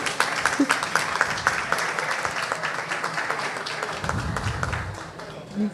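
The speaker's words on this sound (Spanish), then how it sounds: "Un aplauso para Manabí." Crowd applause for Manabí at a science talk in Manta, Ecuador, a steady patter of many hands clapping at moderate level through the whole stretch, with voices mixed in.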